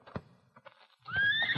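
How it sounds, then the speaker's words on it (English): Horses stamp and then whinny in a radio drama scene set at a shed in the Yukon, a few soft hoof thuds followed by a loud, rising neigh close by. "Doggone horses get jittery at nothing at all."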